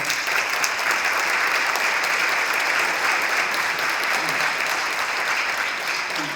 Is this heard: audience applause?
yes